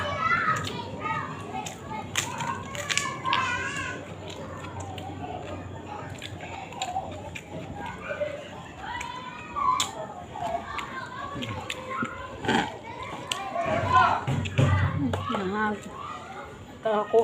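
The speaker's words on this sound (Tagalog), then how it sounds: "Maingay sa labas, naglalaro yung mga bata." Children play noisily outdoors in a Philippine neighbourhood near local eateries, their shouts and chatter forming a steady lively backdrop with occasional sharp close thuds and clicks.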